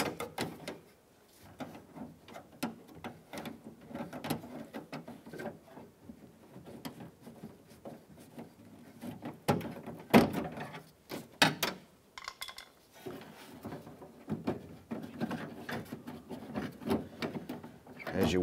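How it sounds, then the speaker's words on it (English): Lock cylinder being worked out of a driver's door on a 2001-2005 Honda Civic, giving continuous close scraping, rubbing and clicking of metal and plastic parts. "As you work that lock cylinder out, there you have it."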